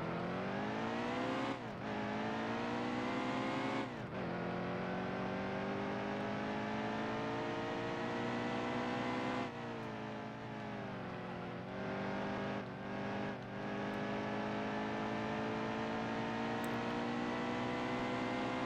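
A NASCAR Cup car engine in a racing video game screams at high revs at Richmond, its pitch climbing and dropping sharply with each gear change, loud and continuous with no talking.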